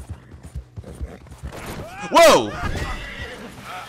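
A horse in the video game Red Dead Redemption 2 lets out one loud, close whinny after a run of light hoof clip-clops. Someone shouts briefly during the clip.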